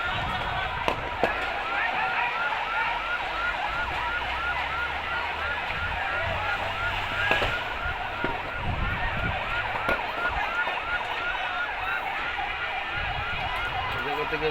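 A fire service siren wails steadily as the truck arrives at a blaze in the Rayer Bazar agricultural market, continuous and fairly close, over a noisy crowd with scattered talk.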